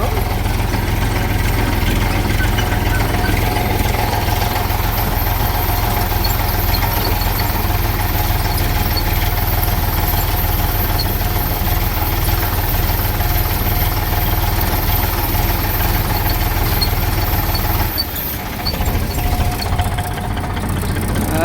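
A tractor engine idles and runs steadily during jowar sowing, a continuous low throbbing rumble with a dip near the end, close by, with voices faintly underneath.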